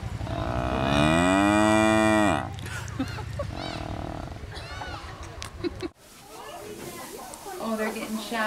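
A loud, drawn-out cow moo close by, followed by rustling, snuffling and people talking nearby.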